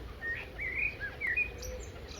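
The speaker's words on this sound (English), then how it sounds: "the birds are singing" Small birds sing beside a flowering wild rose (dog rose) bush buzzing with bees, giving a few short, bright chirps and twittering phrases, fairly faint over a steady low outdoor hum.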